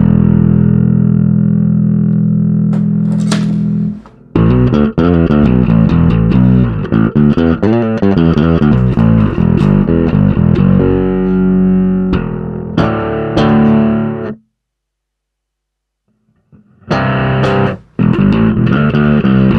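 An electric bass runs alone through a Darkglass Microtubes Infinity distortion pedal, playing gritty, heavily driven notes and riffs loud and close, with a silent gap near the end before the playing returns.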